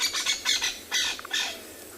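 A crested francolin gives a loud, harsh, rapid squawking alarm call at a South African safari site, several raspy bursts close by with no talking.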